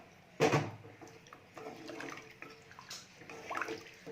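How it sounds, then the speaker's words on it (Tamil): Lentil cooking water being poured into a pot of sambar in a few splashy bursts, with gurgling and faint clatter between pours, close by and no speech. "தேவையான அளவுக்கு பருப்பு தண்ணி ஊற்றிக்கலாம்"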